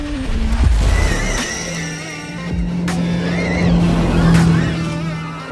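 An Audi RS Q e-tron electric Dakar rally car drives off-road with a steady, loud motor whine and rushing roll noise, including sustained tonal whirs that rise and fall, without speech.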